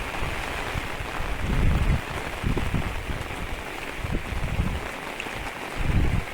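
Heavy monsoon rain pours down steadily in the Konkan countryside near Rajapur, a dense continuous hiss with a few louder gusts and drumming swells throughout.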